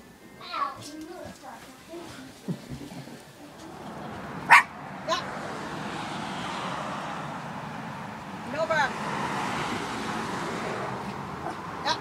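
A dog barks a couple of times close by amid excited yips and whimpers, while a person talks over a steady background hum.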